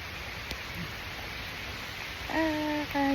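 Heavy rain falls in Richmond Park, London, a steady, dense hiss throughout, with a brief tonal sound rising over it near the end.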